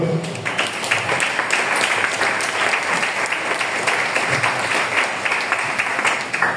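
A church congregation applauds, a sustained and dense wash of many hands clapping together at fairly close range, steady and loud for several seconds, with faint voices underneath.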